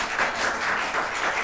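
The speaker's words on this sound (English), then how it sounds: "if we could keep the applause down while we have our conversation, I would appreciate it" Audience applause at a city council budget work session, a steady, fairly faint patter of clapping from a room of people, continuous with no voices above it.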